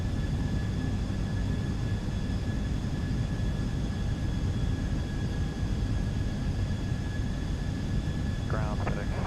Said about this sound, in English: Looks like there's another aircraft taking off right now.